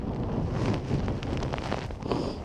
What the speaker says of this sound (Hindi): बहुत तेज हवा है और कुछ नहीं दिखाई दे रहा।